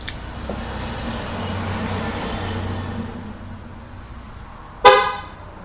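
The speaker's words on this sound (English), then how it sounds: "Okay, there we have our lock command." A 2012 Chrysler Town & Country answers a smartphone remote lock command with a single sharp horn chirp near the end, following several seconds of low, steady background rumble.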